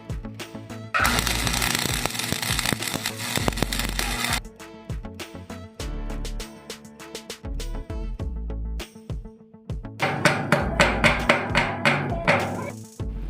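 Arc welding on steel cylindrical door hinges crackles and buzzes in long bursts, loud and close, separated by short pauses with scattered clanks and taps between runs.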